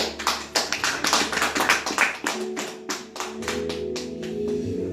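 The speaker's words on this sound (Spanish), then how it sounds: "Denle un aplauso al Rey." Scattered, uneven clapping from a church congregation during a Spanish-language sermon, a burst of hand claps up close that thins out over a few seconds as a low sustained organ or keyboard tone rises underneath.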